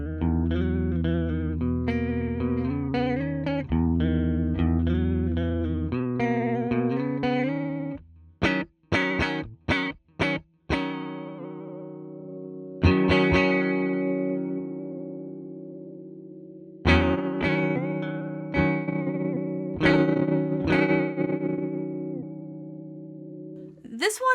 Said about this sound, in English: Moving along to broken, which is chock full of pitch drops and various modulations to evoke motorized audio equipment